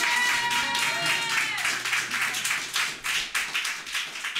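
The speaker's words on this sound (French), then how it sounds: "on peut l'applaudir." A studio audience claps for singer Agustín Galiana at a live apartment concert, a burst of close, brisk hand claps that thins into scattered taps, with a faint tonal hum beneath.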